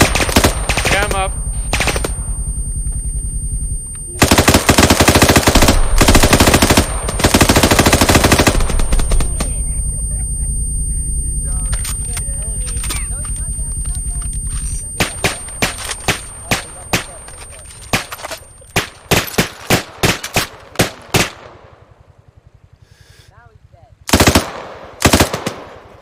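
Automatic rifle fire in the Arma 3 combat game rips out in long, loud sustained bursts of magazine dumping, then breaks into shorter rapid volleys and scattered shots toward the end, with voices talking in between.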